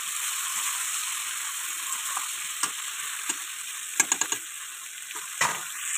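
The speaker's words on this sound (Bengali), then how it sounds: "বেগুনগুলো ছেড়ে দিয়ে তারপর আমি এটাকে হালকা ফ্রাই করে নেবো" Potatoes and eggplant sizzle in hot oil with a steady bright hiss, broken by a few sharp clicks and taps of a utensil against the pan.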